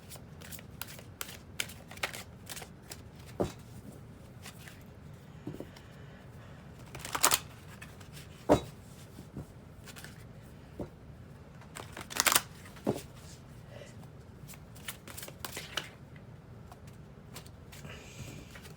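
Tarot cards from a Psychic Tarot deck being shuffled and handled close up, soft papery riffles and sharp flicks in irregular bursts, quiet overall with no talking.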